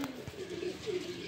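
Pigeons in a cage give soft, low cooing calls, a couple of warbling coos close by over a steady background hiss.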